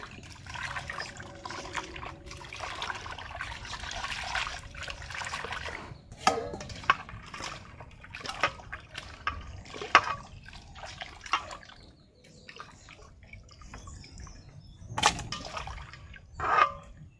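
Water runs and splashes as a cut, salted tilapia fish is rinsed clean, with continuous trickling and intermittent louder splashes and handling knocks, close by and without talk.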